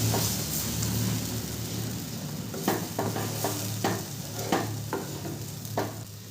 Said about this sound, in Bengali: জলটা দিয়ে সুজিটাকে খুব ভালো করে মিশিয়ে নেব।